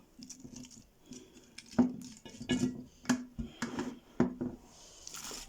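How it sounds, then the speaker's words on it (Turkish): Boiled cabbage is stirred in a metal pot, giving a run of close, distinct clanks and scrapes, about eight sharp knocks at irregular intervals over a quiet background. "Şöyle lahanayı karıştırıyorum"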